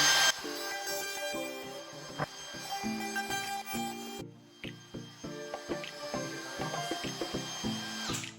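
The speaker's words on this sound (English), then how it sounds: "You've got your router nice and set. Full speed." A wood router spins at full speed while cutting timber for handmade gallows brackets. The tool gives a rapid train of close, loud, uneven rattling hits, and the whine falls briefly quiet about halfway through before the cutting resumes.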